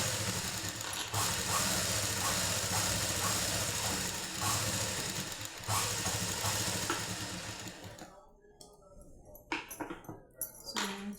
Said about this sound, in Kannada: Double stitch ಹಾಕ್ಕೊತಿದ್ದೀನಿ.